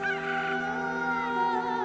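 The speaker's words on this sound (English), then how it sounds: "Immediately, while he was still speaking, the rooster crowed, and the Lord turned and looked at Peter" A rooster crows in one sustained, strained call, heard fairly close and alone, with faint background tones and no talking.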